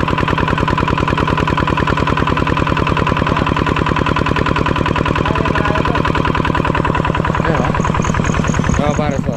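A machine engine runs close and loud with a fast, even, unbroken thumping rhythm throughout.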